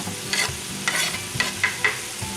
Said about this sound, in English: Peppers and onions going in.